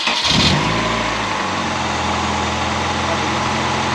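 A Nissan Pulsar SSS with an SR20 engine cranks briefly, catches with a loud burst, then settles into a steady, close idle.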